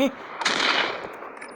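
Burst of gunfire in a video game, a sharp crack followed by a dense rattling spray of shots lasting under a second before trailing off.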